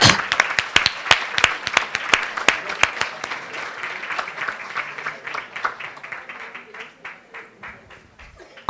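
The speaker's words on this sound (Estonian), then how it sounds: "Teeme aplausi!" An audience claps for a kindergarten team receiving a special prize at an awards ceremony: sharp, distinct claps, loud at first, grow denser, then fade and thin toward the end.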